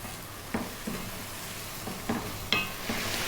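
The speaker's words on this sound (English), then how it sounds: "What we want to do is really cook these tomatoes right down." Tomatoes sizzle steadily as they cook down in a pan over lively heat, with a few sharp stirring scrapes and clicks spaced through the soft constant frying.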